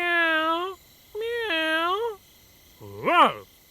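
A voice artist imitates a cat with three close, clear meows, each a drawn-out call with a rising and falling pitch, separated by short pauses, the last one shorter and more sharply bent.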